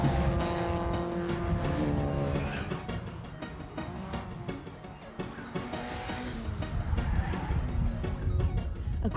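Stock hatch race cars from the 1999 championship scream past on the final lap, a dense blur of engines rising and falling with passing revs, moderately loud under a noisy track atmosphere.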